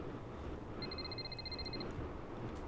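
Phone ringing in the From Earth video game: a faint electronic ring of about a dozen rapid, evenly spaced beeps in one short burst over a steady low hum.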